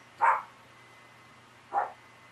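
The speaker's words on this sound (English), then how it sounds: "And there's my little dog barking." A small dog barks outside on a patio, two single barks that sound somewhat distant and moderately loud, well separated, over a low, steady background hum.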